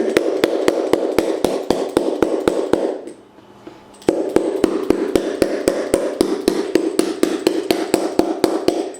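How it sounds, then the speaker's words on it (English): Rapid, regular hammer blows pound a shoe's half sole into place, ringing out sharply, pausing briefly for about a second before the steady pounding resumes at the same brisk pace. "After it's snugly in place, give it a quick pound with a hammer."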